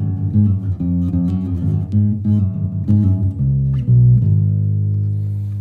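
Bass guitar through a TC Electronic BG250 bass combo amp plays a clean, steady melodic line of low notes, ending on a held note that slowly fades.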